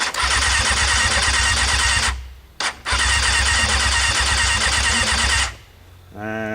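A 1998 Kawasaki ZX6R starter cranks its engine in two loud, sustained bursts separated by a short pause, then spins down to quiet without catching.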